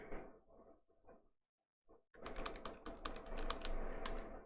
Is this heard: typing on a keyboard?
yes